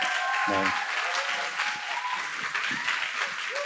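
Continuous studio audience clapping at a Korean talk show fills the moment, with a voice speaking briefly over the dense, even applause.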